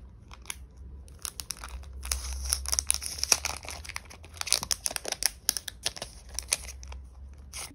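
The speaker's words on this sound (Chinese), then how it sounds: "我想要看能不能加这个贴纸，" Paper sticker handled and pressed onto a journal page: quiet, close crinkling, peeling and tapping sounds in irregular bursts, with no speech.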